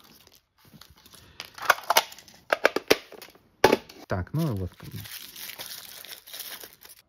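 Plastic packets crinkle and tear open in bursts while unboxing a LOL Surprise Hairgoals series 2 doll, the rustling close and intermittent between stretches of someone talking.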